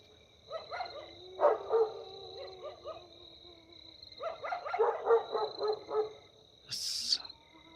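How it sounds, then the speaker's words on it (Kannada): Several dogs bark in bursts at night in a cremation ground, the rough barks coming in two clustered runs with a steady thin whine running underneath throughout. "ಈ ನಾಯಿಗಳು ಸುಮ್ಮನೆ ಇರಲ್ಲ"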